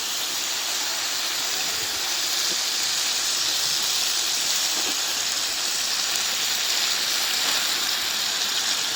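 Fish added to a softened onion-tomato masala frying in a pan, producing a continuous dense hiss and sizzle with a few faint clicks, steady and unbroken throughout.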